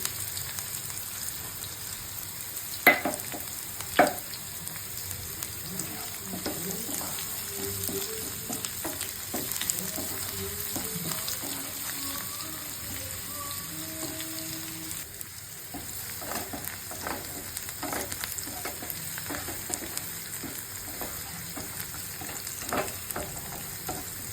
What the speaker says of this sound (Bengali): একটু একটু হওয়ার পর ঢেলে দেবো রসুন